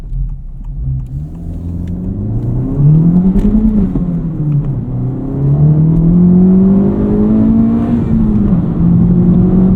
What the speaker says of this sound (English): Type R is just clawing away for traction here